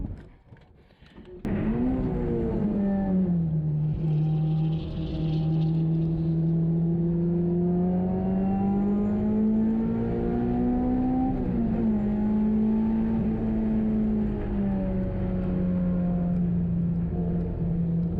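Honda S2000 engine on a race track, a steady loud drone with a clear pitch that climbs and falls as the car accelerates and shifts, preceded by a brief sharp click and quieter start, with no talk.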